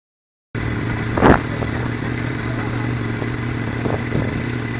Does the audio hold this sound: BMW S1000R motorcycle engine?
yes